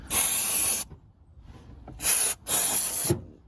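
Brake cleaner sprayed onto car engine parts during a Seat Ibiza 1.4 MK3 service, three sharp close hissing bursts, the first longest, separated by brief quiet gaps.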